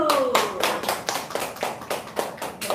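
Applause at a church youth worship service, a burst of clapping from a group of young people that rings out loud and close for a few seconds with uneven, overlapping hand claps.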